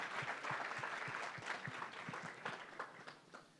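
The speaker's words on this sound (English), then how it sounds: "let's give them all one big round of applause" A conference audience at CultureCon 2025 claps together in a sustained round of applause, the sound somewhat distant and soft, with individual claps standing out before it tapers off near the end.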